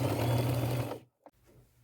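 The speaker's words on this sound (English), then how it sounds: "zigzag stitch it all the way around" A sewing machine zigzag stitches fabric in a close, loud burst of motor whir lasting about a second before cutting off, followed by a small click.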